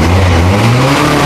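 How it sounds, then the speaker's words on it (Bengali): A 2023 Pilder Version 3 165cc bike engine revs loudly and steadily up close, its pitch climbing slightly across the short burst with no talk over it. "পিল্ডার ভার্সন 3 এর প্রথমে আমরা সাউন্ডটা শোনালাম"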